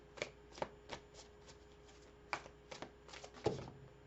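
Tarot cards are shuffled in quick, separate riffling bursts, close and fairly quiet, with short pauses between the crisp flicks and no voice over them.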